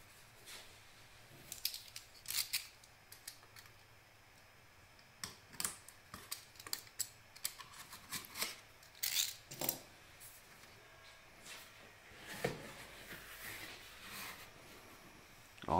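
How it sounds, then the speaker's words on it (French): The cardboard box of a Freebox Delta server being opened, close quiet scraping, tearing and crinkling of cardboard and packing with clicks and taps in uneven bursts, no speech. "Là, on va ouvrir le carton du serveur et découvrir"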